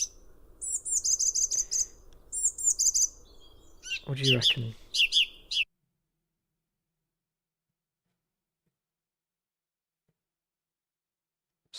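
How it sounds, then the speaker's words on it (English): Song thrush singing outdoors in a quick run of bright, repeated chirping phrases over a low background hum; a person speaks briefly, and the birdsong breaks off into silence partway through. "I heard a song thrush"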